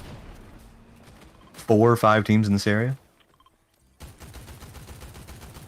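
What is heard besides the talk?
gunfire in the video game Fortnite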